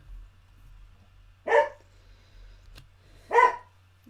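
A pet dog in a home barks twice, a few seconds apart, each bark sharp and fairly close against a quiet room with a low background hum.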